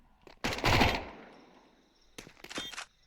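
Rapid bursts of Mac 10 submachine gun fire in a Counter-Strike match, two loud, dense volleys separated by a short lull with a lingering ringing tail.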